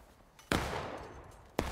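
A musket volley crashes out in the War of Rights video game, a sudden loud burst of massed gunfire that rolls on, then a second sharp crack follows about a second later.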